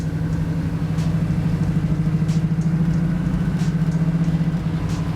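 A 1968 Camaro cruises down a wet, rain-soaked road, its engine producing a steady, rumbling drone with a continuous throbbing pulse that holds close and loud throughout, with no voices.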